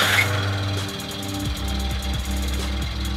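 A sailboat's engine on a test run after repair makes a loud, steady, close-up mechanical clatter and rumble throughout, with no talking.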